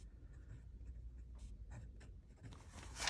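A Leonardo Momento Zero fountain pen nib writing on paper, faint close scratchy strokes in short uneven bursts over a quiet background.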